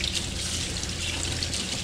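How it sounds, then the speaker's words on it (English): Loose mixture stirred in a bowl, a steady wet sloshing and swishing that runs continuously, close up with no talking. "And just gonna stir that"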